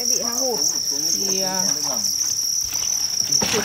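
Crickets at a cricket farm keep up a loud, constant high chirring close by, with a few brief warbling calls from another source rising and falling through the middle.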